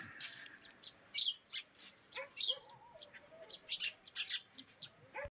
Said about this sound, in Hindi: तो बसंत के आगमन के साथ जो है ना सब अब चिड़ियाएँ चहकने लग गई